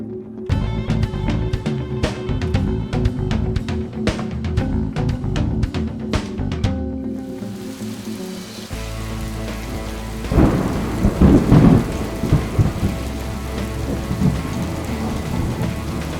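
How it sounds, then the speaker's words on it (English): A violent thunderstorm with heavy rain hits a mountain camp in the Hoover Wilderness west of Bridgeport, California. Dense rain patters close by as deep thunder rolls in, building to a loud crack and rumble before heavy rain continues. "just as the rain started, it was a pretty violent storm."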